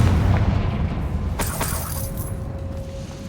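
A Confringo fire spell blasting in Hogwarts Legacy: a low rumbling boom followed by sharp crackling, shattering bursts, then a fading ringing tail.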